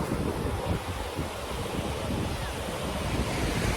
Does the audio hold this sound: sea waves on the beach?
yes